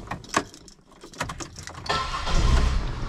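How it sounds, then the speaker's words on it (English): A Chevy Impala is started after keys rattle and a few clicks, the engine catching and settling into a close, steady idle. "What I'm gonna do is start the car."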